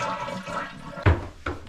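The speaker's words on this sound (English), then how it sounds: "if you can hear this, this toilet is constantly running" A toilet with a leaking fill valve runs constantly, giving a steady close hiss of water with a couple of sharper splashy surges near the end.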